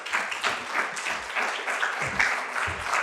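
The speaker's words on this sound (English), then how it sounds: "So a big round of applause, please." Audience at a green-sector skills event in the North East applauds as a speaker is invited to the stage, a moderate, even round of clapping from a mid-sized room.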